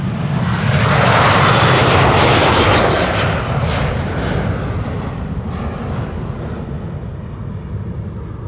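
A Ryanair jet on flight 421 to Dublin departs Amsterdam Schiphol with a loud, steady roar that peaks early and slowly fades as the aircraft climbs away.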